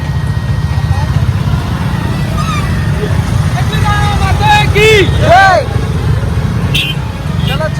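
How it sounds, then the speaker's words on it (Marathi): Many motorcycles riding past on a busy road, a continuous close engine rumble with horns honking and people talking over it. "भरपूर बाईक येत आहेत अजून"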